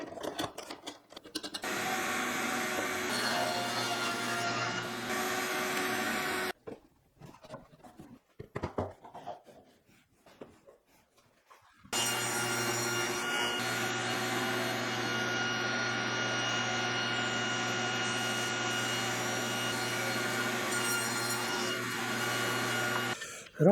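A table saw trims the edge of a wooden cutting board with a steady, close whining drone that drops out briefly mid-way, then resumes at full strength.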